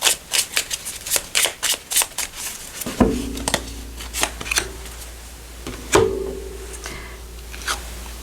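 A small deck of forest-themed oracle cards is riffled and shuffled by hand in a quick run of crisp flicks, with a few louder slaps and pauses between bursts, close and clear with no talking.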